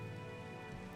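Steady rain hisses and patters evenly in Minecraft, a dense, continuous wash of falling drops at a moderate, constant level.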